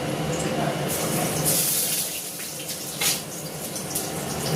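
Running water rinses boiled jackfruit, a close, steady splashing stream like a tap pouring into a bowl, with a voice heard speaking over it.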